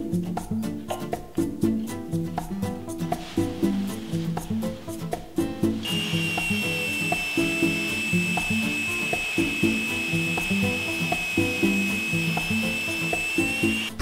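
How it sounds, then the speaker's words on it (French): A steady, high-pitched whine of a stationary belt sander grinding the sides of a wooden cutting board, continuous and close, with a sharper tonal scream kicking in partway through. "J'installe ensuite ma ponceuse à bande en mode stationnaire pour pouvoir poncer les côtés."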